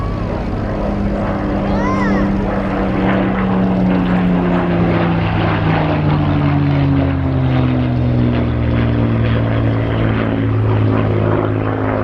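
A display aircraft makes a high-speed pass at the RIAT air show, Air Tattoo 2022, with its steady loud engine roar and a falling Doppler drone sweeping by over continuous crowd and commentary noise.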